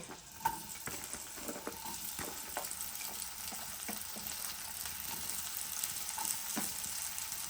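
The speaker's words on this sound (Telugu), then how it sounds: "ఆనియన్ టమాటా ఒక రెండు పచ్చిమిర్చి వేసి ఫ్రై చేసుకోవాలి" Onion, tomato and a couple of green chillies fry in hot oil for baby corn masala curry, a steady close sizzle with occasional crackles and stirring taps, no talking.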